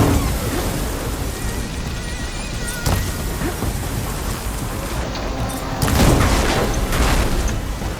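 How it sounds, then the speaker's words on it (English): A storm in the video game Horizon Forbidden West whips up sand, giving a loud, continuous rushing roar with deep booming swells at about three and six seconds. "the storm's whipped up a sand spot"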